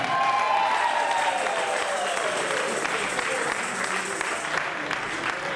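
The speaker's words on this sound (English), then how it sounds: "Keep clapping until we sit down somewhere." Wedding anniversary guests in Zimbabwe clapping together, a sustained crowd applause with voices mixed in beneath it.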